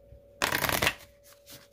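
A deck of tarot cards is shuffled in one quick, crisp riffle lasting about half a second, up close, followed by faint soft card handling.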